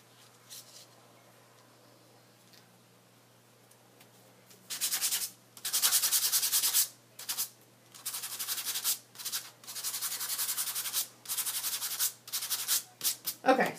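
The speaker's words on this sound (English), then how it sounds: "my dust buddy, I want to make sure I clean that dust up" Brisk bursts of a dust brush rubbing back and forth over cardstock, close and dry with short pauses between strokes, after a quiet start.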